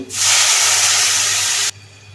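Water poured into a hot pan of frying chili, coriander, cumin, turmeric and salt, giving a sudden loud sizzling hiss that holds steady for about a second and a half, then drops away sharply, leaving a low hum.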